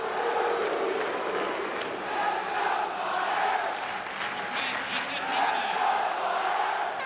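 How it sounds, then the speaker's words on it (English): Loud, sustained roar of an ice hockey crowd in a Philadelphia arena, a dense wall of cheering and shouting that swells and surges in waves without a break for the whole stretch. "They're cheering with a vengeance"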